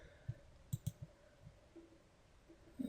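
Computer mouse clicks on a share button, a few sharp, quiet clicks spaced irregularly against a faint background hum.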